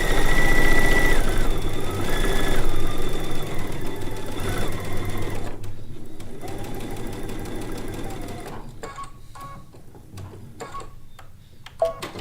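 A sewing machine stitches the final seams of a Lacey Log Cabin quilt top, its steady mechanical whir and ticking running continuously before slowing and stopping near the end with a few scattered clicks.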